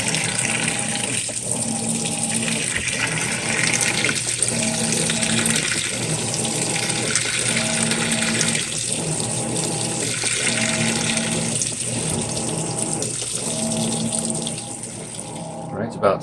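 A Whirlpool Cabrio WTW7000 top-load washer works a thick queen-size comforter, with a steady watery churning and rhythmic sloshing pulses repeating about every second and a half, close and continuous.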